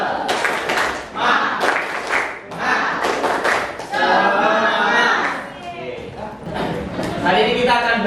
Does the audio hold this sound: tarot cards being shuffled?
no